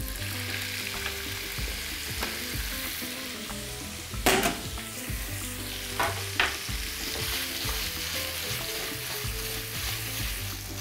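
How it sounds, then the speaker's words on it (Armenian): Pork tenderloin fries in rendered fat in a pan with a continuous close sizzle, broken by a few sharp scraping clatters of stirring. "Առաջացած յուղով տապակում ենք փափկամիսը"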